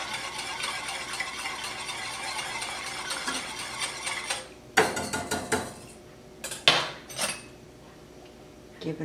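A utensil scrapes and clinks against a pan while seasoned beef burger filling is stirred, with a few sharp metallic knocks over a steady low sizzle, close by and without talk.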